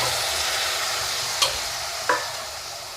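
Raw plantain fries in a pan under a steady, close sizzle, with two brief scraping knocks of a spoon stirring partway through and no voices.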